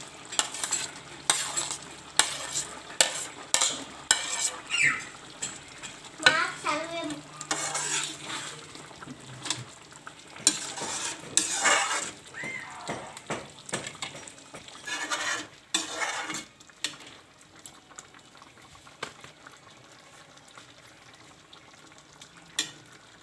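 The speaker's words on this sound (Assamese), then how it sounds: "এতিয়া মটৰখিনি দি দিছোঁ" Green peas being stirred in a frying pan with a spoon, giving repeated scraping and clinking strokes in an irregular rhythm over a soft sizzle, close and moderately loud.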